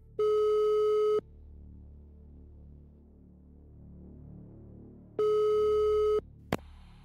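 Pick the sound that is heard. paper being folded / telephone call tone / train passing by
telephone call tone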